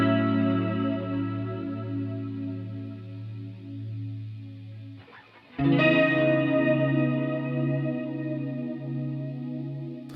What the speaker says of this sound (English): I have just used the Super VHS and I've clicked the magic button in the center. And what the magic button does is it creates a chorusing effect